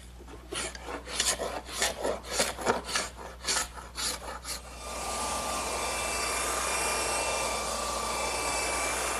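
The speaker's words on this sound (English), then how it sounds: "I'm going to unclamp it, scrape off the excess glue, and sand it." Hand scraping of excess dried glue on a glued-up wooden tabletop: a series of rhythmic rasping strokes, followed by a steady continuous whir of a power sander on the wood.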